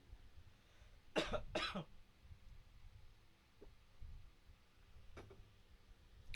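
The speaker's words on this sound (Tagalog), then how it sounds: "Medyo talagang inuubo na ako." Two sharp coughs close together near the mic, followed by a quieter throat sound and a couple of small clicks.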